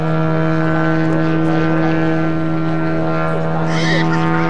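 A giant 340 cc petrol engine drives the world's largest model aircraft at an outdoor model airshow, droning loud and steady with a strong low hum and high harmonics throughout as it flies past.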